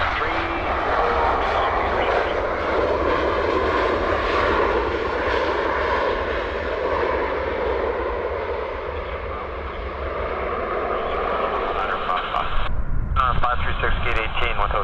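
A fixed-wing airliner lands on runway 08 right at Vancouver International Airport, its engines roaring in a loud, steady, close-up rush that carries on throughout, with tower radio chatter faintly mixed in.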